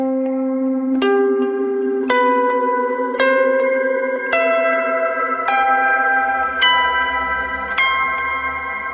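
Electric guitar arpeggio in a chill dream pop style, each note ringing out through echo and reverb effects, eight evenly spaced plucks stepping upward over a sustained low note, bell-like and washy, played alone with no talking.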